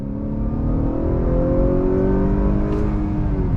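A 2.0-liter turbo engine in a 2021 Honda Accord Sport pulls hard under throttle, a steady rising drone of engine and road noise heard from inside the cabin, loud and continuous with no voices.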